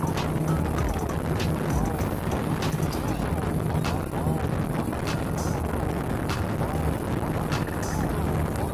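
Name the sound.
Raja Wali Express passenger speedboat travelling to Pontianak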